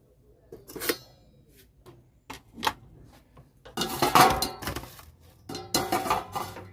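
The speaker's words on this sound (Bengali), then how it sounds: "ছাঁকার জন্য এখানে একটা ডেকচি বসিয়ে দিচ্ছি জলটা ঝরানোর জন্য।" A metal cooking pot and a strainer are set down on a kitchen counter for draining potato chips, giving several sharp clanks and rattles spread across the moment, with louder clattering toward the end.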